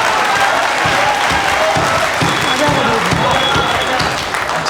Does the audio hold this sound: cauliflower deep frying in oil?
no